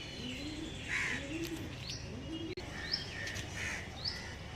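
A green-eyed female pigeon gives soft, repeated throaty coos, close and fairly quiet, alone in a calm setting.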